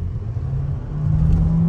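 A Volkswagen Taigun or Hyundai Venue car engine revs up, a low loud rumble that rises in pitch and intensity during the short burst.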